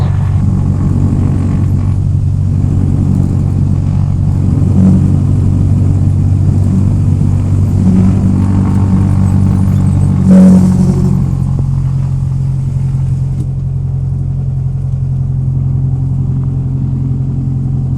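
Small aircraft engine at run-up before takeoff, a loud, steady propeller drone with a constant low hum, close and continuous, dipping slightly in pitch near the end.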